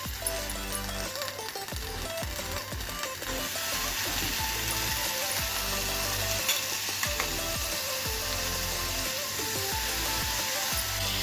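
Shelled pea pods fry in a pan for a Marathi-style peel bhaji. A continuous loud sizzle sits under repeated scraping and clattering stirring strokes, close up and with no talk.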